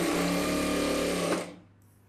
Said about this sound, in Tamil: இதில் வந்து தையல் போடுறேன்.